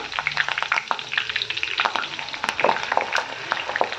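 Curry leaves hitting very hot oil for homemade hair oil crackle and sizzle loudly, with sharp spitting pops scattered over a steady frying hiss.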